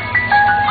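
An ice cream truck plays its sustained, tinny jingle melody loudly and up close, heard alone without any talking, in a short continuous burst.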